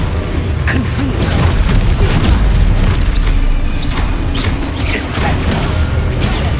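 Confringo spells in Hogwarts Legacy go off as loud, booming fiery blasts with crashing debris, running in a continuous heavy roar throughout.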